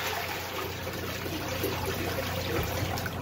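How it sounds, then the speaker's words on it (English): A toilet being flushed during removal and reinstallation, with a steady broadband rush of water draining through the bowl, loud and close throughout, with no voices. "so we're gonna flush the toilet."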